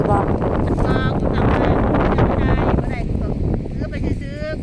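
Wind buffets the microphone outdoors in the rice paddies of northeastern Thailand during crab digging, a loud, steady low rumble throughout, with people talking over it.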